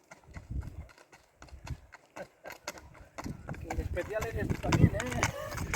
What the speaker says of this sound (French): je me doutais fortement qu'il y avait un cavalier sur le chemin